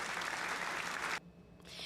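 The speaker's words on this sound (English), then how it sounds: "A round of applause for her." A dense burst of crowd applause plays during a live stream as a cheer for a chat member, then cuts off abruptly, leaving near silence before faint sound returns.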